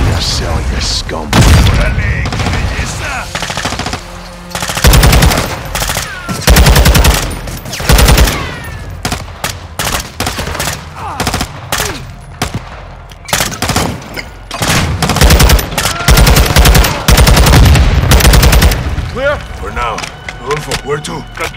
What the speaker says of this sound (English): Turret gun in our way.